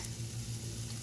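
Butter sizzles steadily in a frying pan while an omelette is being started, a close, continuous crackling hiss with no pauses and no voices.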